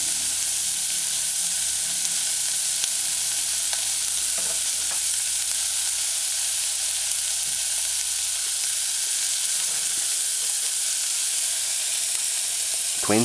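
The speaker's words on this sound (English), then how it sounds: "Allow to saute." Eggplant and saltfish (codfish) sauté in a pan for a stew, giving a steady, close sizzle and hiss that runs without a break, with occasional faint stirring scrapes.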